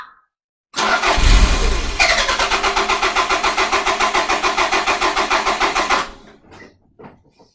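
A Toyota MR2 engine with a weak battery cranks steadily for several seconds, rhythmic starter pulses close and loud, then stalls and fades to quiet.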